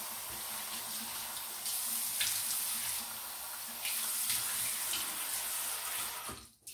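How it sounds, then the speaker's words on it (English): A tap runs steadily into a sink as a beard is wetted, a continuous hiss of water with brief splashy surges and dips, fairly faint, then cut off at the end. "So let me get my beard wet as if I had just gotten out of the shower."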